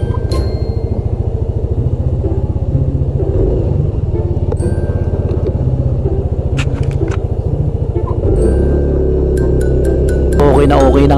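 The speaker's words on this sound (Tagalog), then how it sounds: "At iti-test drive na nga natin ngayon ang ating motor kung hindi na sinisinok." A Yamaha Mio i 125 scooter engine on a test ride after throttle body cleaning runs steadily with a loud throbbing rumble, revving up near the end, close and continuous.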